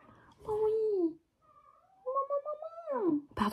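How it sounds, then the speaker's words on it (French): Meowing from a domestic cat, several drawn-out, rising and falling calls close to the microphone, separated by short gaps, with no talk over them. "parce qu'il commençait à miauler alors il faisait du bruit"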